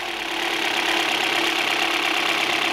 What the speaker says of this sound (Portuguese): Dá uma acelerada pra gente aí, Fernando.